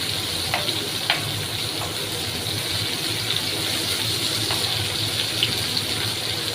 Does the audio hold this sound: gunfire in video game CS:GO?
no